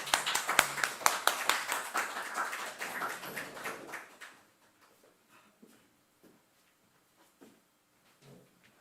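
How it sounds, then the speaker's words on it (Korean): A church congregation welcomes a visiting pastor with clapping, a burst of close, crisp handclaps that thins out and fades after about four seconds, leaving only scattered soft taps and room noise. "김사무엘 목사님 나오실 때 우리 박수로 우리 환영하도록 하겠습니다."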